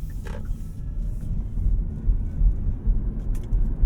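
A 2021 Hyundai Kona EV rolls along the road, giving a steady low rumble of tyres and road noise with almost no motor sound, fairly quiet and without talk.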